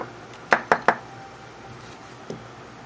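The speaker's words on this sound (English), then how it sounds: "I'm gonna knock a bunch of things over." Several objects knock over onto a tabletop during a paper crafting session, three quick sharp thumps in a row followed by one softer knock a moment later, close by with no talking.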